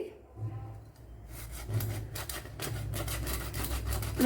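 A whole fish is scraped and cleaned for fish pollichathu, giving close, rapid rasping strokes that start sparse and build into a steady scratching rhythm, with no clear talking.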